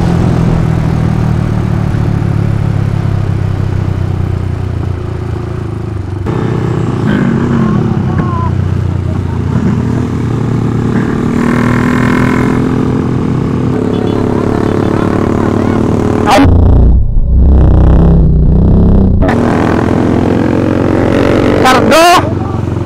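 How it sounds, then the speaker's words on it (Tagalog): A Rusi motorcycle engine runs steadily with a low rumble, loud and close, with voices talking over it and a brief sharper burst near the end. "Bumagal yung takbo ng motor natin"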